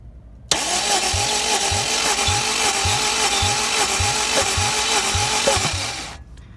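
Honda Civic Si with a K20Z3 engine and bent valves cranking on the starter for a compression test, a steady rhythmic chug of evenly spaced pulses lasting about six seconds, close and loud, then stopping.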